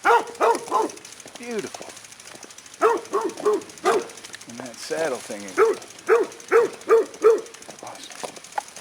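A dog that came out of the road barks several times in quick bursts at close range, mixed with rooster-like calls, while people talk between the barks.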